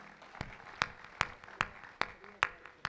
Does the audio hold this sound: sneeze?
no